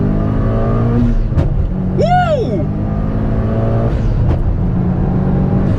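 A Mitsubishi Lancer Evo 9 MR engine revs hard, drops sharply on the shift from second to third gear, then climbs again, loud and close inside the cabin.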